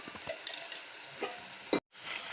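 Green chili paste frying in a pan for a bottle gourd chutney, giving a soft sizzle with scraping stirs close by, then a brief moment of silence.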